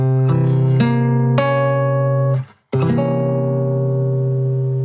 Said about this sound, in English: It's called a flat 9 or a dominant flat ninth.